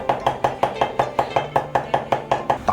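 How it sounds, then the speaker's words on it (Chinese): A knife mincing ginger on a cutting board, fast regular chopping with about fifteen sharp, evenly spaced strikes close up. "用刀片薄，再剁成姜末"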